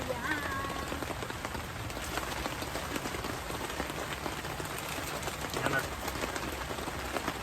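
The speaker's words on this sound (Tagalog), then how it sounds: "Lumalakas na po yung ulan." Heavy rain pattering steadily on surfaces at a campsite, a dense, even hiss of drops with close spatters and a soft voice briefly audible underneath.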